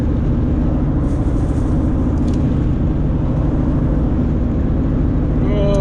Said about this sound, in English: Big ass truck behind me.